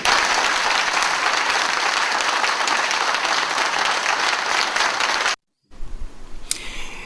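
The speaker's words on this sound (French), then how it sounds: "Alors je vous demande de vous lever et d'applaudir le distingué camarade Ali Bongo Ondimba." A large audience claps at a political gathering, dense sustained applause for about five seconds before a brief cut to quieter room sound.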